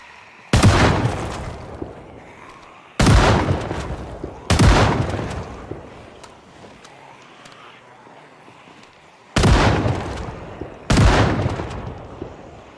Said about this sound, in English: I'll do a couple shotgun rounds